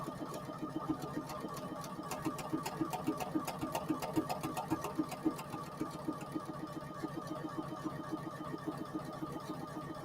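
A Poolin EOC06 single-needle embroidery machine stitches fabric at a fast, even mechanical rhythm, its rapid needle clatter running steadily at moderate volume throughout.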